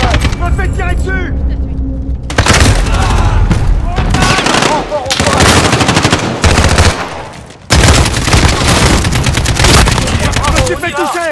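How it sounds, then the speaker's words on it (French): Dense bursts of rapid automatic gunfire and shots in the trench warfare video game Trench, loud and near, with a brief quieter stretch near the start and a voice speaking over the shooting. "Je me fais tirer dessus."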